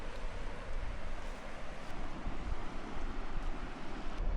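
A fast-flowing Montana river rushes past a small beach, a steady, full roar of churning water that holds an even level throughout with no voices.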